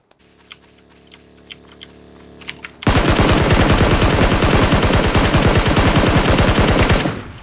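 Gunfire in PUBG on the Miramar map: a few sparse clicks, then a loud, sustained burst of rapid automatic fire that runs for about four seconds before cutting off.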